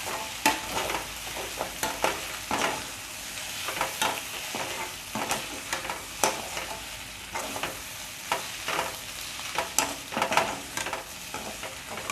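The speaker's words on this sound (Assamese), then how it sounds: "এতিয়া এইখিনি অলপ সময় এনেকৈ ভাজি থাকিম।" Bottle gourd peel and egg stir-fry in a pan, a hissing sizzle broken by frequent sharp spatula scrapes and knocks in an irregular rhythm, close and fairly loud.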